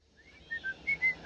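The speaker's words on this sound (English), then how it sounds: "He whistled as he clambered into the driver's seat." A man whistles a short, bright tune of quick separate notes, rising and falling, close and fairly soft against a quiet background.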